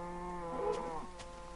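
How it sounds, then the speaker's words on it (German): A Minecraft cow moos once in a drawn-out, tonal low call at moderate loudness over a faint steady game background, with no talking. "höre bei dir die Kühe"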